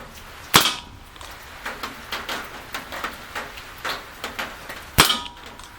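Daisy Powerline CO2 BB pistol fired outdoors: two sharp, loud shots spaced a few seconds apart, with a string of lighter ticks and rattles between them.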